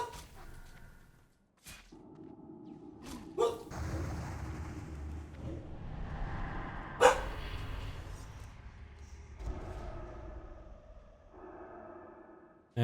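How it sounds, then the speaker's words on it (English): A dog barks in a room during a World of Warcraft duel, giving a few sharp, close barks and yips scattered over the clip beneath game sound effects. "Sorry about my dog."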